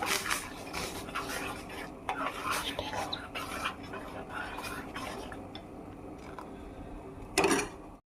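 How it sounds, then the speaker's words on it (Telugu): Soaked sago pearls are stirred through boiling milk in a pot, with repeated scraping and clinking of a spoon against the metal, close by, and a soft bubbling hiss beneath. "ఇదిగోండి తిప్పుతూ ఉన్నానండి, ఎందుకంటే అడుగంటుతుంది సబ్బియ్యము"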